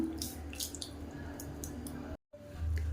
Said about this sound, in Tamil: இப்போ மிக்சியை அலசிட்டு இந்த தண்ணியை சேர்த்துக்கலாம்